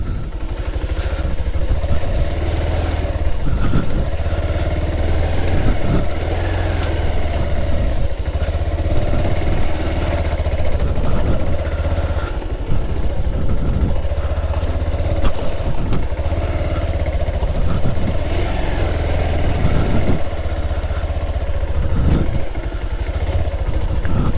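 A Pulsar 220 motorcycle engine revs and labors steadily up close while plowing through waterlogged mud, its chugging drone continuous with clattering bursts.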